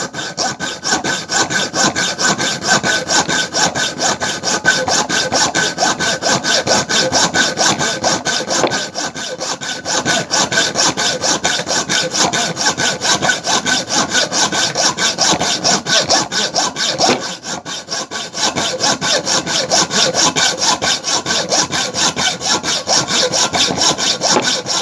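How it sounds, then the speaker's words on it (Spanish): A hand hacksaw cuts steel stock while making a half-moon key in a workshop, with steady rapid back-and-forth strokes running loud and continuous for nearly the whole stretch, broken by a couple of brief pauses. "El arco de sierra ya saben que para adelante corta, para atrás descarga."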